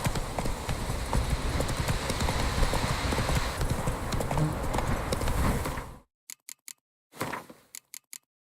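A ridden horse's hooves clip-clop in a quick, steady rhythm for about six seconds, close and clear. The hoofbeats then stop, leaving near silence broken by a few short, sharp clicks.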